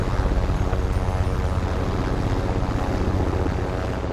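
In Call of Duty Warzone, a hostile attack helicopter carrying cash flies overhead, a steady, loud rotor and engine roar that fills the whole stretch with no talk.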